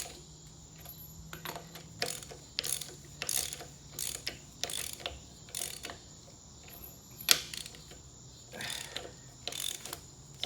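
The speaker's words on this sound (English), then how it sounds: "Screw these bad boys in." A ratchet drives screws in with bursts of quick clicking, pausing between turns, close and clear against a quiet shop background.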